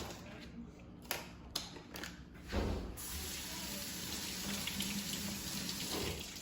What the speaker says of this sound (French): on doit laver et sécher 3 tasses de mûres